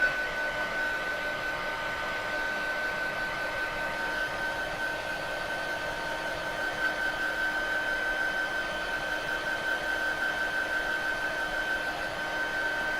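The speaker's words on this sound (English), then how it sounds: "heat gun?" A heat gun blowing over acrylic gouache paint swatches, a constant close whirring roar with a steady high whine, running unbroken and even throughout.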